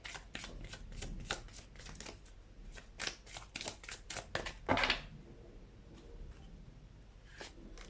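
Tarot cards shuffled in quick repeated riffles for about five seconds, crisp and close, followed by a few slower slides and taps as cards are drawn, with no voices.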